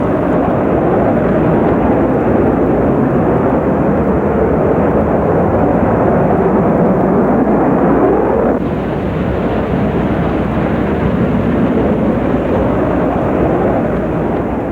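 A B-2 stealth bomber flies on its landing approach with drag rudders extended, producing a loud, continuous jet roar that holds steady and then drops slightly in tone partway through.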